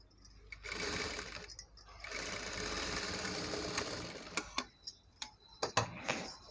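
A sewing machine top-stitches around the neckline of a long frock made from a saree, running in a steady whirring burst and then in short stop-start bursts, close by and quiet, with no talking.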